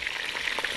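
Onion hitting a pan of meat for kabsa, a brief, steady frying hiss with a soft stirring scrape.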